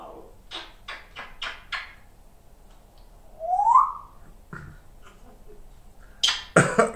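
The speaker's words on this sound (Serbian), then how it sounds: "Ko kašlje? Ma ko kašlje?" A quick run of five short, dry cough bursts, then a rising whistle-like sound, a single cough and a louder double cough at the end, all close and with no talking.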